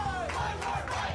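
Fans cheering and shouting at Tony Luke's during a 5 lb cheesesteak eating challenge; a loud, continuous crowd roar with rising whoops, with no talk over it.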